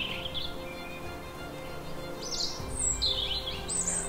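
Birds chirp outdoors in short high bursts, sparse and a little distant, over a soft steady ambient background with no talking.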